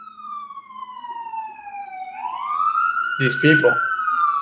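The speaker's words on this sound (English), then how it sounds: "Tone these sirens down a little." Emergency vehicle sirens wail on a New York City street, their sweeping electronic tones sliding down, then rising again loud and near; someone says a few words over the siren near the end.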